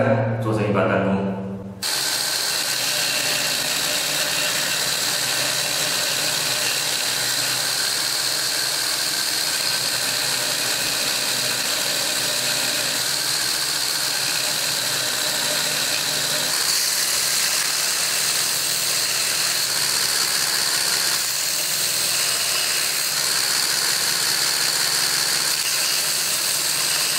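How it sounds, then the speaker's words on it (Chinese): A power sander works a composite fiberboard slingshot frame, a steady loud whine and grinding buzz that runs continuously from near the start with only slight shifts in pitch. "进行了一下打磨，可以看见现在圆整了很多"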